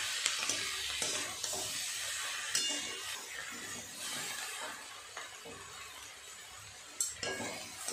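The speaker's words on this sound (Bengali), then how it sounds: "সবজিগুলো এইভাবে একটু নেড়ে চেড়ে নিয়ে জল ঢেলে দেবো।" Vegetables are stirred in a sizzling pan, with repeated scrapes and clinks of a utensil against the metal over a constant frying hiss, heard up close with no voices.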